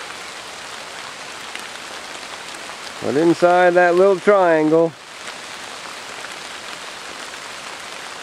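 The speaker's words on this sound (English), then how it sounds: "pouring down rain." Heavy rain pours steadily outside a woodland shelter, a constant soft hiss that runs through the whole stretch while someone speaks briefly in the middle.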